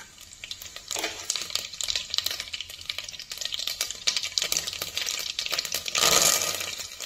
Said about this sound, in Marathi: तर आता हे तेल तापलं की त्यात मी हिंग घातलाय, मोहरी